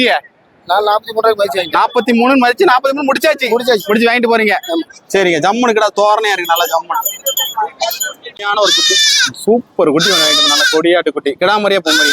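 Goats bleat repeatedly amid a busy livestock market at Melapalayam, their cries close and frequent, mixed with steady chatter and bargaining voices of traders around them.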